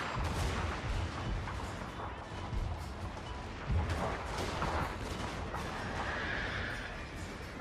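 Cannon and rifle fire crackle through a Total War: Fall of the Samurai siege battle, mixed with horse whinnies and clattering hooves in a dense, continuous din of combat.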